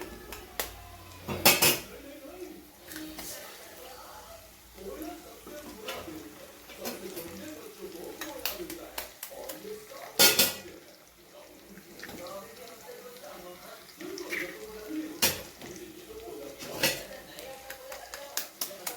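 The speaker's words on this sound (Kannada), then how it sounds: "ಈಗ ಮೊಟ್ಟೆ ಹೊಡೆದು ಹಾಕ್ಕೊಳ್ಳಿ" Four eggs are cracked into a bowl while cooking goat blood fry, with sharp clinks and taps spaced several seconds apart over quiet kitchen clatter and faint water sounds.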